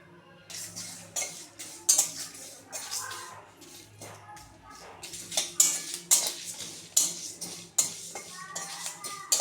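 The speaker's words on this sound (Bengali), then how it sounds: "শুকনো লঙ্কা গোলমরিচ পাঁচফোড়ন আর গোটা মৌরি এগুলোকে একটু শুকনো খোলায় ভেজে নিই" Dried red chillies, black pepper, panch phoron and whole fennel dry-roasting in a dry pan, with a faint background hiss under frequent metal scraping and clinking stirs, fairly quiet and close.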